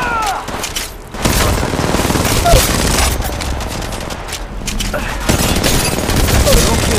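Rapid bursts of gunfire from an attacking squad in Apex Legends Mobile rattle out in loud, repeated volleys, with short pauses between strings of shots and heavier booming impacts.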